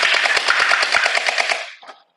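Overwatch Tracer Pulse style gel ball blaster firing a rapid full-auto burst of about a dozen evenly spaced mechanical shots, close and loud, for under two seconds before stopping.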